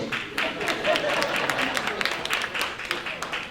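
A comedy-show crowd breaks into applause, a thick wash of clapping that stays steady and fairly loud throughout, with some voices and crowd noise mixed in underneath.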